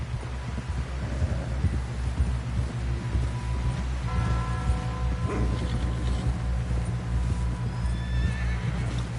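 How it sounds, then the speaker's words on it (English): A horse in the Red Dead Redemption 2 video game gives a loud whinnying neigh over steady clip-clop of hooves and a low rumbling game soundscape, the hoofbeats rhythmic and close throughout. "Someone help John down off this horse."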